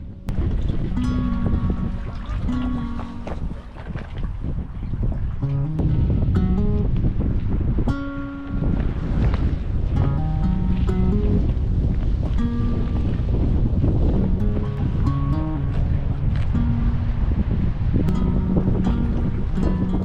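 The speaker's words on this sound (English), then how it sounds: "Even when it's just light northerly winds, the camera still picks up all of it." Light northerly wind on a rocky coastline at Aireys Inlet buffets the camera microphone with a loud, steady roar that lasts throughout, while faint melodic tones sit underneath.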